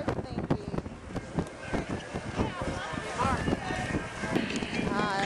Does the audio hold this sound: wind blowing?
yes